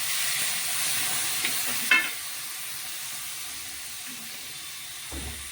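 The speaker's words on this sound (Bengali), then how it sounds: "বন্ধুরা একটু জল দিচ্ছি।" A spice mix for kochur loti with dried fish sizzles steadily in a pan, with a brief sharp hiss as water goes in and a soft knock near the end.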